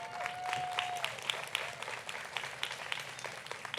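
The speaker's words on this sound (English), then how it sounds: "Will you please join me in giving a rousing applause to your friends, your family, and loved ones" A commencement audience at a community college graduation claps steadily in a large hall, dense sustained applause at moderate distance, with a faint whistle near the start and scattered cheers mixed in.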